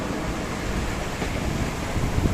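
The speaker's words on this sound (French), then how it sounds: "Là, le vent est fort et constant." Strong, steady wind blows over a sailboat at sea on an ocean crossing, a constant broad roar of air and water rushing past with no pauses and no voices.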